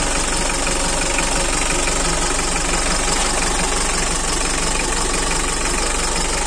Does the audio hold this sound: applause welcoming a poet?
no